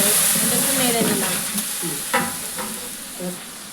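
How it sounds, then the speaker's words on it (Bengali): Chicken roast masala with sour yogurt and dry chilli powder is stirred in a hot pan: a loud, close sizzle with several short scraping strokes of the spoon, no talking. "টক দই আমি দিয়ে এটা একটু নেড়ে নিলাম।"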